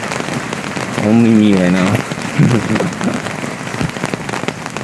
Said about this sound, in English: So the rain suddenly became super strong